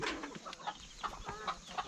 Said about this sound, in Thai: โอ้ไก่นี่ไก่กระดูกดำเลยนี่